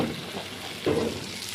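Anchovies cooking in a pan on top of a wood-burning kitchen stove, a steady close sizzle and crackle of frying fish lasting throughout, with no voices.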